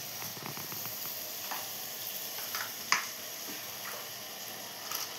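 Spices sizzle steadily in hot oil in a pan as they are sautéed, with a soft, continuous crackle, occasional stirring scrapes and one sharp clink near the middle, close and fairly loud.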